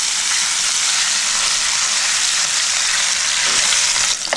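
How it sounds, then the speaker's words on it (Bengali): Close, continuous sizzling of rohu fish frying in oil in a pan for Bengali fish korma, an even hiss that holds steady and dips briefly near the end, with no voices. "আমি এই মাছটাও লাল করে ভেজে নেব।"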